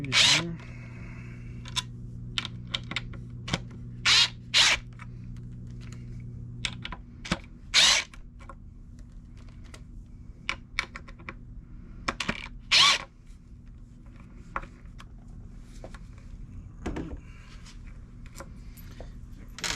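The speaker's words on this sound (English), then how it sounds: "we're going to undo these screws here." Screws being undone from the base plate of Gullwing Super Pro 3 skateboard trucks, heard as a series of sharp, separate clicks and scrapes from a small hand tool, spaced irregularly over a faint steady hum with no talking.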